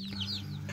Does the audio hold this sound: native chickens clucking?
yes